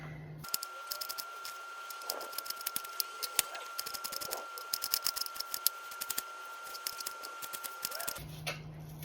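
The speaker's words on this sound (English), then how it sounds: "Let's just dice this onion and see how much I get out of it." A knife dices an onion on a cutting board in a home kitchen, giving a fast run of sharp, crisp chopping clicks and crunches in quick irregular rhythm, close and fairly loud, with no talk.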